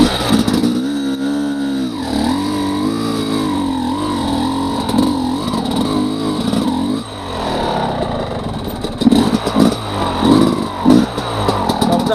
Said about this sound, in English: This time, the engine stalled right here.